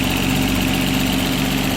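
A BMW M6 with a Dinan turbo conversion, roughly a 60 mm turbo, and heavy-duty internals idles steadily after a cold start. The engine note is loud, close and continuous with a low rumble and no talk.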